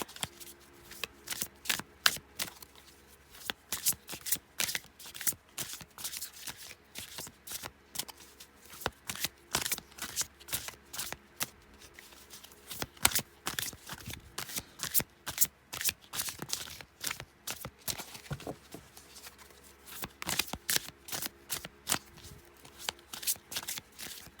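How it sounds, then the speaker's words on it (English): A deck of tarot cards is shuffled over and over. The quick, crisp riffles and flutters come in close bursts with short pauses between them, and no voice is heard. "I guess I'm just going to stand here and shuffle forever"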